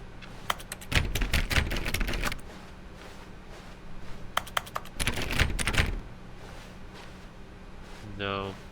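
Keyboard typing in The Stanley Parable comes as two bursts of quick clicky keystrokes, with a steady low hum underneath and a short electronic chime near the end.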